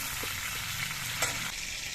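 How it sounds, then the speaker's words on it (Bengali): A large silver carp head, over 400 grams, frying in oil, a loud crackling sizzle that stays dense and continuous, with a brief sharp pop near the middle. "এবার মাছের মাথাটা ভেজে নিচ্ছি"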